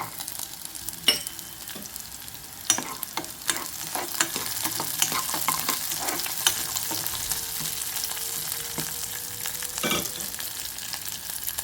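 Cashews roast in ghee in a pan, a steady close sizzle with scattered sharp crackles and the scrape of stirring throughout, no talking.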